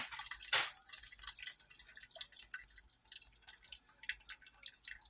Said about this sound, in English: So let's go ahead and just get this strained.